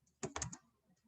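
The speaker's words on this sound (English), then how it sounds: "I'm just typing in bullet point" A short burst of typing on a computer keyboard, four or five crisp close key clicks bunched within half a second, then quiet.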